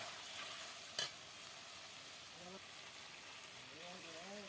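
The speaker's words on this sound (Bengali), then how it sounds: "এবার একটু নেড়ে নিচ্ছি ভালো করে।" Food fries in a pan as it is stirred, a faint, continuous sizzle with one sharp clink of the spoon against the pan early on and a soft voice briefly in the background.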